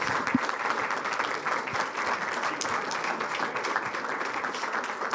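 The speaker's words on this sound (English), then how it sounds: "How about a round of applause for them?" A round of applause rises from the audience at a township council meeting: steady, moderately loud clapping from many hands that holds evenly for several seconds, with no speech over it.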